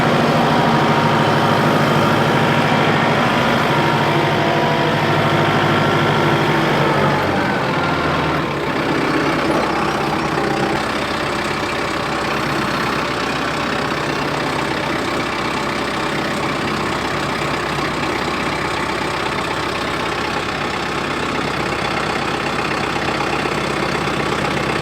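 The big engine of a large farm tractor fires up with a low rumble and settles into a steady, loud, continuous idle that holds for the whole stretch, close by with no talking.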